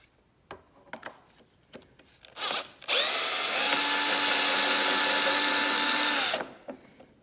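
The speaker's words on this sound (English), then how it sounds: "So now the bolt is being removed." A power drill or impact driver on a Yamaha R1 RN12, taking out the fuel tank bolt, whirs steadily and loudly for about three and a half seconds, after a few scattered clicks and handling knocks.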